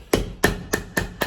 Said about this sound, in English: I'm just going to hammer everything together, put some tacks in the heel